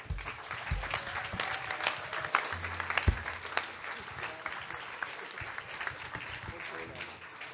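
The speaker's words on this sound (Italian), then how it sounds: "I Trillanti, un applauso." Audience applause for a folk group at the Folkest 2024 festival final, scattered clapping at moderate distance with loud close claps and a few voices and stage sounds mixed in, tapering slightly toward the end.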